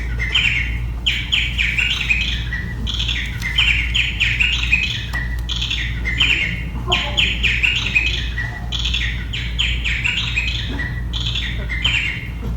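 Recorded birdsong played as enrichment for shelter cats plays continuously: repeated bright chirps and warbling phrases in regular bursts over a steady low hum, fairly loud with no talking.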